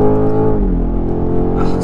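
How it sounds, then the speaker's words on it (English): The 2025 BMW M5 prototype's engine drones down a track straight, a loud, sustained, close-up note whose pitch shifts slightly as it pulls. "Oh, sounds like a proper M car, doesn't it?"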